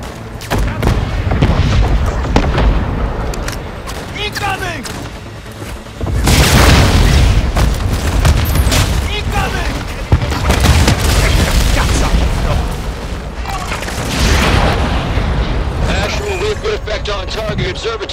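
Loud, continuous explosions and artillery blasts from the Call of Duty: Modern Warfare II video game rumble through the whole stretch, with heavier booming surges around six and ten seconds and voices mixed into the battle din.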